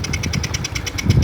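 A Honda Karisma motorcycle engine held at full throttle with a fault that makes it stall: a rapid, even knocking pulse runs close and loud, then rougher, heavier thumps come as it falters near the end.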